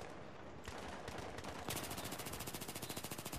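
Rapid automatic gunfire in the video game Battlefield 3 rattles in a fast, steady rhythm, growing louder and denser partway through, with no voices.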